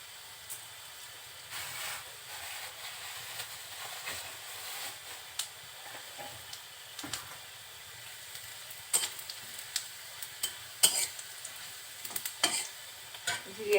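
Onion and whole cumin seeds frying in oil in a pan for a poi shak bhaji, a soft, steady sizzle with scattered sharp crackles and pops that grow busier toward the end.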